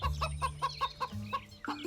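A cartoon chicken in an animated folk tale clucks in a quick, even series of about eight clear, close clucks over a low background tone.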